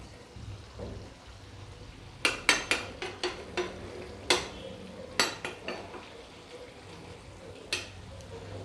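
Small puti fish with spinach stirred in a pan, a spoon scraping and clinking against the metal in a run of sharp, irregular strokes close up over a low background hum.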